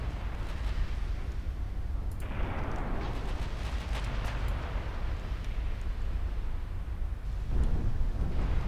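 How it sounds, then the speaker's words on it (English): Cruiser guns firing in Ultimate Admiral Dreadnoughts, heard as a constant rumbling naval cannonade with repeated booming salvos and a heavier blast near the end, all dense and loud with no voices. "My cruisers are already firing at the screen here"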